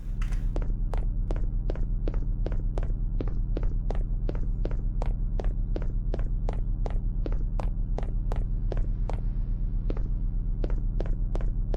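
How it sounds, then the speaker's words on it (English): Footsteps in the video game Static Paradox, a long run of sharp, evenly spaced steps with an occasional skip in the rhythm, heard over a constant low droning hum. "sometimes the footstep sounds kind of skip a little bit"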